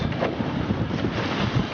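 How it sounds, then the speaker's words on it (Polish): Loud, steady wind roaring and buffeting the microphone on a sailboat deck, with a low rumble of water and a flapping sail beneath it, continuous throughout. "Za silny wiatr jest po prostu"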